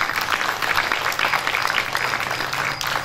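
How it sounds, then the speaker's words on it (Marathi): An audience breaks into loud, continuous applause to welcome award recipients, a thick steady roar of many clapping hands with no pause. "तुम्ही जोरात जोरात जोरात टाळ्या वाजवून त्यांचं स्वागत करायचं आहे"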